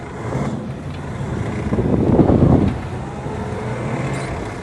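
A 1960 Chevrolet Corvette with a low-geared manual transmission revs and pulls away from a standstill, the engine note swelling loudly for a moment then settling back to a steady drone, with wind buffeting in the background.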